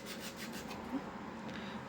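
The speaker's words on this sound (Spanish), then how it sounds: "vas a ir lijando" Quiet, steady rubbing and scraping of sandpaper working along the edges of a cured epoxy resin piece, soft and continuous with a slight rhythmic back-and-forth.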